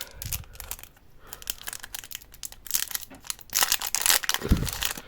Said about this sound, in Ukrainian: Тепер ми давайте такий пакетик відкриємо.